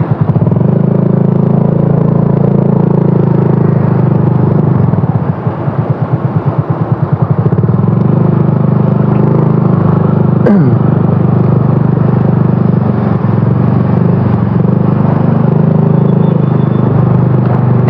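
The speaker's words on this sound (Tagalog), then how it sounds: "Parking lang natin yung motor natin." A motorcycle engine rumbles continuously and loudly at close range while being parked at a mall, with a brief uneven clatter midway and no voices.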